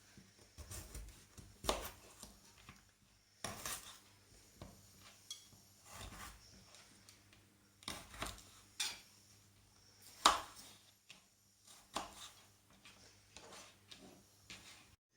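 A knife chops carrot on a cutting board in a home kitchen during a turkey or chicken stir-fry, giving sharp, irregular, close knocks separated by quiet pauses.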